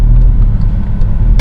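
A VW Scirocco sports car with a DSG transmission, its engine giving a low steady rumble that swells slightly as the throttle is barely touched, heard from inside the cabin with no talking.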